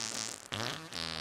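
A quick cartoonish fart sound effect from the online game Goose Goose Duck, about a second long and loud, with a short break midway before a second buzzy burst.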